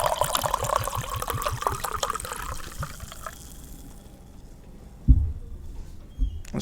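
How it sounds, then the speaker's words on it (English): Liquid poured out as a drink tribute, a steady trickling splash running for about three seconds before tapering off, followed by a couple of sharp knocks near the end. "Folks, put your volume up. Time for the pour."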